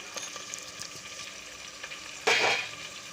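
Ginger garlic paste with salt hits a hot pan, setting off a sudden sharp sizzle that fades over about a second after quiet clinks and stirring.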